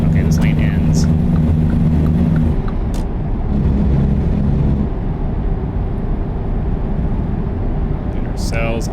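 A truck cruises down a freeway in American Truck Simulator, with a loud steady engine and road drone throughout, and a speaking voice over it.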